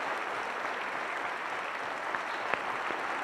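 Audience applause at a Fallas ceremony in Valencia naming the falleras mayores, a steady wash of clapping from a crowd, moderately faint and continuous throughout.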